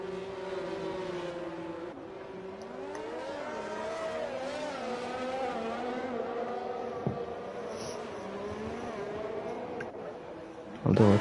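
A race car engine drones and rises as it heads out onto the Monaco track during qualifying, its pitch climbing and falling through gear changes, steady and moderately distant, with a louder burst near the end.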